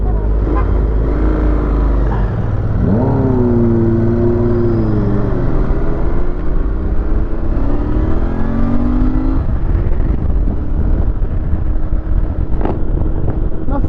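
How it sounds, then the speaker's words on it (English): A Royal Enfield Interceptor 650 or 2018 Honda CBR650F engine drones loudly and continuously while riding, its induction note rising and falling in pitch under wind rush, with a rider talking. "There's a nice little induction sound."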